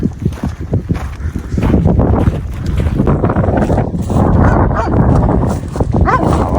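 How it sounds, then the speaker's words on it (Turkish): A dog barks repeatedly over loud, steady wind rumble outdoors, the barks partly buried in the blustery noise. "bak köpek doğru geliyor"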